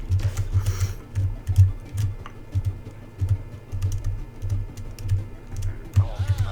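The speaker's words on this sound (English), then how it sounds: "let me try using my keyboard for just a second" Rapid clicking computer keyboard keys are pressed in bursts and held keys tap repeatedly for a video game, close and fairly loud with a thumping low rhythm, and brief faint talk appears near the end.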